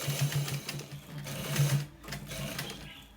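A sewing machine stitches a neck design in rapid, steady mechanical chatter with a humming motor, running in short bursts close by and pausing briefly before starting again.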